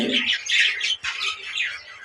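Budgerigar calling in a cage alongside a new mate, a quick run of bright chattering squawks and chirps, close and steady with a brief pause midway.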